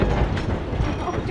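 A coal-fired K-Class narrow-gauge steam train on the Durango and Silverton line rolls past close up, a steady dense rumble with rail clatter filling the moment, no voices over it.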